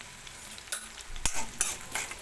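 Urad dal and mustard seeds frying in a pan with chana dal, a soft continuous sizzle with a few crackling pops and stirring scrapes.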